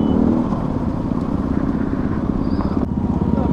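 Several motorcycles on a group meet-up ride rumble together in a continuous, loud engine drone with road noise, close to the rider.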